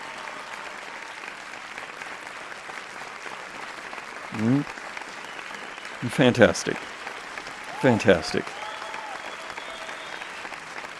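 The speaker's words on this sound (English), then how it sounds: "Let's have a round of applause for that one." Applause from a small audience at an online game awards stream, rising in three short bursts of clapping over a steady background hum, with a voice speaking between them.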